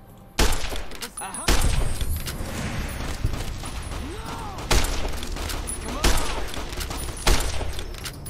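Gunfire from a video game set in the Mojave Wasteland, with several loud bursts and sharp shots recurring every second or so over a dense, steady background of game sound effects.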